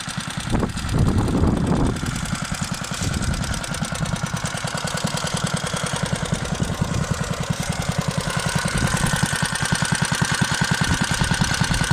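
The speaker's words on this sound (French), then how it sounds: "Comme on peut le constater, le motoculteur il tourne vraiment très très bien." Staub PPXS6 tiller with a Bernard W239 engine running at a steady idle, a close, even rapid putter with a brief louder burst near the start.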